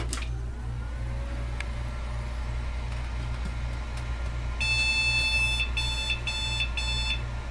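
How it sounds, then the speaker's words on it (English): A 1.4 GHz AMD Thunderbird DOS PC powers on over a steady low fan hum, then its BIOS sounds a series of rapid high beeps in short groups, signaling an extended memory error. "Now, looking up that beep code, that's an extended memory error."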